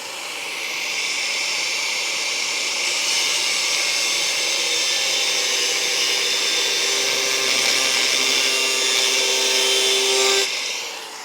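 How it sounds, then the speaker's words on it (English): A cutoff wheel slices through car body sheet metal during a Charger crew cab restoration, a steady high-pitched whine and grind that holds for about ten seconds, close and loud, then cuts off. "Basically using the cutoff wheel to scribe a line and then make the big cut."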